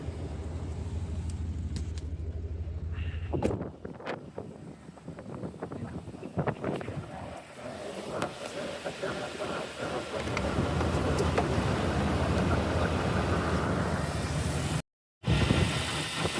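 A car engine fitted with a rebuilt alternator and new accessories cranks and catches, then settles into a steady idle, heard up close under broad hissing noise.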